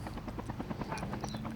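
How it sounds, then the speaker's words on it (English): A video game helicopter's rotor chops in a fast, even pulse, loud and close with a steady engine drone underneath. "then I do take the helicopter"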